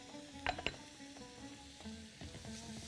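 Chopped onion frying in olive oil in a pan gives a steady, close sizzle, with a couple of sharp utensil clinks near the start and soft tonal sounds in the background.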